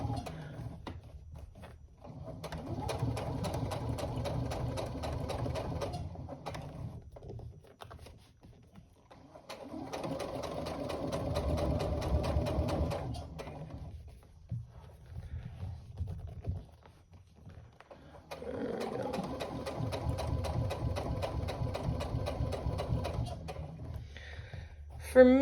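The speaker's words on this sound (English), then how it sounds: "And then I'm going to top stitch. Same as before, 1/8 of an inch." A sewing machine top stitching a tote bag seam, running in three sustained bursts with short pauses between, close and moderately loud, with a voice speaking in the gaps.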